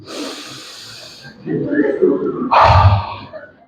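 A voice imitates deep breathing: a soft hiss, then a heavier inhale and a strong, snorting exhale, close to the microphone.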